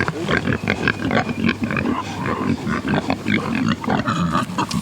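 Excited oinks and grunts from a small herd of pigs in the woods on a farm, dense and continuous, fairly close and loud, with several animals overlapping throughout.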